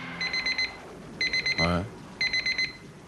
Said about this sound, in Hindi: ये 3 बजे अलार्म बजने का मतलब आप रोज रोज 3 बजे उठते हैं?